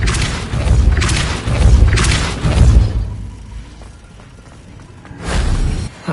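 A Depulso force-push spell in the Hogwarts Legacy video game lets off a series of deep booming thuds and whooshes, with heavy crashing impacts, a quieter lull, then another swelling boom.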